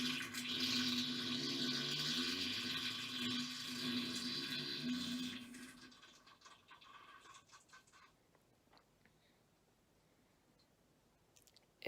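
A toilet flushes loudly and steadily for about six seconds, then drains into a fainter gurgle and trickle with soft clicks, heard alone without talk.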